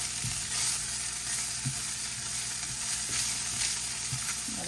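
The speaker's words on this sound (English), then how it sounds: "Just gonna give that a stir for 30 to 60 seconds here." Almonds sizzle and crackle steadily in a hot frying pan while being stirred, with soft scraping clicks over a continuous close frying hiss and no talking.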